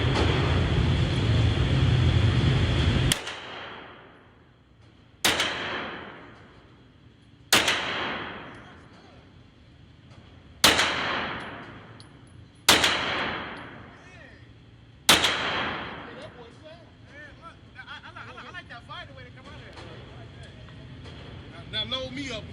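Six loud gunshots ring out at an outdoor shooting range, each a sharp crack followed by a long decaying echo, spaced a few seconds apart after a stretch of steady noise.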